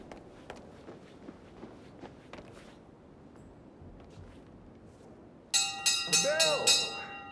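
Bell ringing in Hitman World of Assassination, a bright metallic series of rapid clangs that starts suddenly after footsteps and quiet shuffling, near and loud, with ringing overtones lingering to the end.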